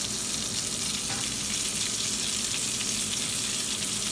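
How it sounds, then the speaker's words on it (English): Chicken pieces sizzle loudly and continuously in a hot skillet, a dense, even hiss of frying fat filling the whole stretch close to the listener with no voices. "I'm just going to go ahead and add these to the skillet"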